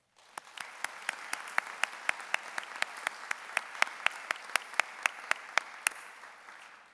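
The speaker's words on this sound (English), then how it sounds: "please join me in a round of applause for Professor Mary Ann Fitzharris" An audience at a campus address applauds for about seven seconds. The clapping is moderate and fairly distant, with a soft crowd wash and sharp individual claps standing out at a steady beat.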